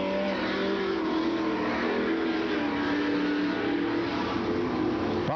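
Late model super stock cars race on a loose dirt track, engines roaring in a dense, continuous wall of revving that stays loud and steady throughout.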